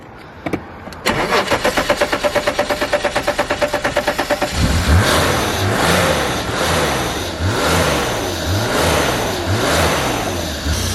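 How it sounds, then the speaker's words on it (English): An abandoned BMW E34 535i engine, unstarted for 12 years and running on starting fluid, cranks with a fast, even chugging, catches and starts, then revs up and down several times, loud and close. "we're just going to run it off the starting fluid and give it a few revs and see how she runs"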